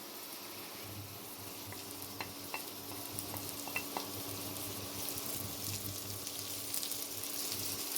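Onion cut into rings and carrot fry in oil in a pan while being stirred, giving a quiet, steady sizzle with occasional light scraping clicks and no talk.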